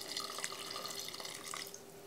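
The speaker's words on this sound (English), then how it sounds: "So I'm adding water to within about 3 inches from the top, and the beans are under by about an inch or two of water." Water pours into a pot of navy beans, a steady trickling splash with small drips and gurgles, heard close and fairly soft with no voices.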